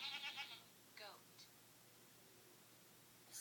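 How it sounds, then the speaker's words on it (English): A goat bleats once with a quavering, wavering cry in the first half second, followed by a quieter second call. Both sound fairly close and stand alone, with low room hiss afterward. "Is that a goat?"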